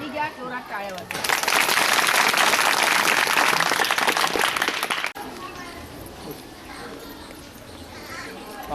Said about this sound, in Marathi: हात खाली घ्या, जोरात टाळ्या वाजवा.